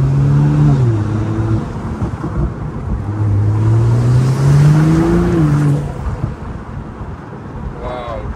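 A sports car in sport mode revs and accelerates through paddle-shifted gears on a Monaco road, loud and close, with rushing wind noise and a sharp crackle of exhaust pops near the end.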